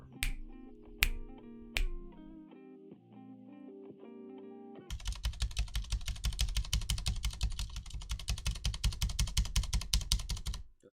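Typing on a cheap computer keyboard for a stabilizer sound test: a few slow, sparse key presses, then a rapid, even run of loud clacky keystrokes that keeps going to the end.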